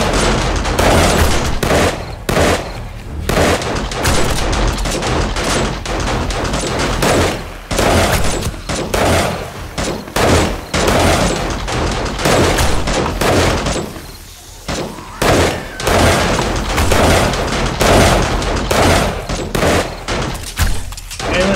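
Automated turrets in 7 Days to Die firing during a co-op base defense: dense, loud, continuous rapid gunfire bursts with barely a pause, with some voices underneath.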